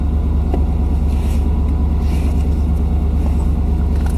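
An old cheap truck with 347,849 miles on it drives along, heard from inside as a loud, steady low engine and road rumble, droning continuously without any speech.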